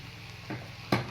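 Spoon scraping through madike kaalu (moth bean) curry in a pan, two short stirring strokes over a soft background sizzle, the second louder and closer.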